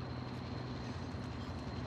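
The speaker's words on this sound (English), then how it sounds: "Train coming? You want to take the train?" A train in a video game rumbles steadily and evenly throughout the short stretch, a continuous mid-level mechanical drone with no voices over it.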